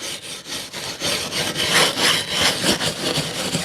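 Sandpaper scrubbed back and forth over painted wood, a close, steady rasping rub repeating in quick rhythmic strokes with no talking.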